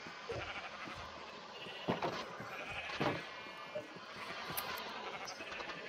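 Minecraft sheep bleat a few times in a pen of black and white sheep, short nasal calls rising over a busy game soundscape, with some talk in the background.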